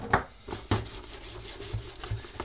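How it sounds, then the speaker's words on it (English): Leather grease being worked into a leather bag by hand, a series of soft, close rubbing strokes repeating roughly every half second, fairly quiet with no talking. "Nice, thick, generous, rich layer of leather grease on this thing"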